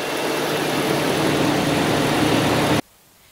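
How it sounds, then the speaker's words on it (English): A Ford F-150's 5-liter V8 idles in a steady, dense rumble that runs evenly for nearly three seconds, then cuts off abruptly into near silence. "Under the hood is a 5-liter V8 engine."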